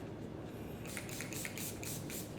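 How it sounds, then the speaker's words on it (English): Urban Decay All Nighter setting spray is misted onto a face in a series of about six quick, soft hissing pumps, close and fairly quiet, following a stretch of faint hiss. "spray the All Nighter by Urban Decay"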